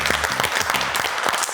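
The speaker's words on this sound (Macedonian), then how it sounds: "Аплауз." Close, loud applause from a small studio audience at a television cooking competition, with individual sharp claps clearly audible in a quick, uneven rhythm.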